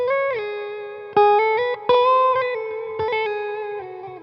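Electric guitar notes played with a slide-like feel ring out through effects, each sustained note decaying into a long reverb tail, several tones overlapping and fading alone without talking.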